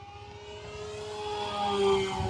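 An E-flite Decathlon RJG RC airplane, 1.2 m span, flies with its electric motor held at full throttle, a steady whining drone that slowly rises in pitch and grows louder as it passes close.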